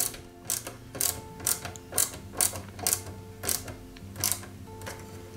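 Rhythmic ratcheting clicks sound while a metal driveshaft part is tightened on a 1/8 scale Ford Gran Torino model car, about ten crisp close clicks at even intervals, alone with no talk.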